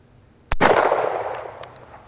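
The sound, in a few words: S&W 629 .44 Magnum revolver gunshots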